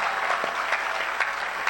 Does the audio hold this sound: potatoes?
no